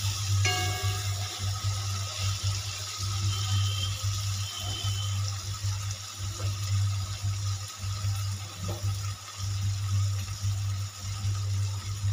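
Water poured into a pan of pointed gourd curry, a steady running and splashing wash that holds for the whole stretch with no talk over it.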